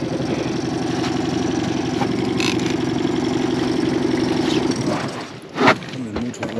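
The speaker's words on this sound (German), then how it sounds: "Den Motor aus jetzt." A small boat motor idling on a narrow ditch, a steady, throbbing mid-pitched hum for several seconds before it cuts off, followed by brief knocks and handling noise.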